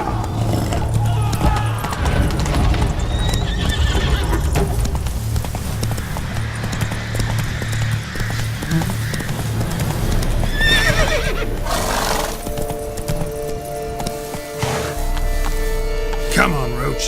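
Hooves of a horse galloping steadily in the Witcher 3: Blood and Wine video game, a continuous rapid clip-clop with occasional whinnies, under game music and ambient sound, with someone speaking briefly.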